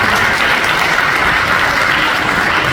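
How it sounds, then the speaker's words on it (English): Loud, dense applause from a standing audience at a college prep scholarship awards ceremony, continuous clapping with no talk over it. "I just want everybody to stand up and give you some round of applause"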